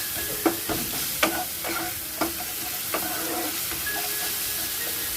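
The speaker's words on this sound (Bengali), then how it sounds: "ভালো করে ফেঁসিয়ে ভেজে নেব আমরা।" Chillies and potato filling for aloo paratha frying in a pan, with a constant soft sizzle and a few sharp scraping clicks of stirring, close and fairly quiet.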